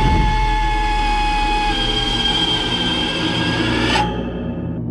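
A trailer sound design patch layering sustained piano tones with bone crushing effects plays as a dense, loud tonal drone for about four seconds, then cuts off abruptly into a softer tail.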